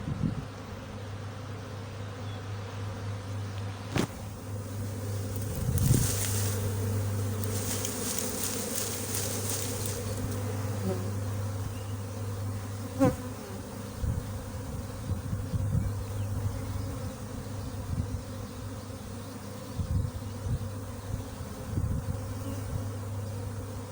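A honey bee swarm clustered in a bush buzzes in a steady, close drone, with individual bees flying past now and then and a few light rustles and handling noises mixed in.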